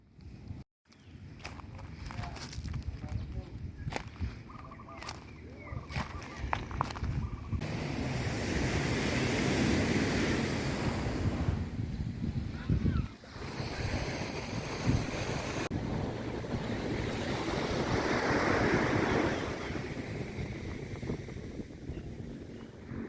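Surf washing onto a wide tourist beach at Ujong Blang, Bireuen, with steady wind buffeting the microphone; after a few rough bursts at the start, the waves roll in as a continuous loud wash with swells rising and falling.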